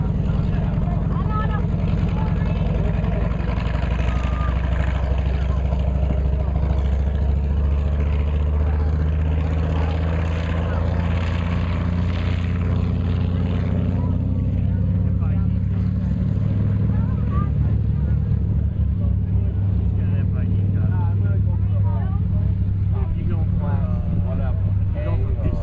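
A vintage naval aircraft's radial engine and propeller give a loud, deep, throaty drone that holds steady and close for the whole stretch, with a heavy low rumble.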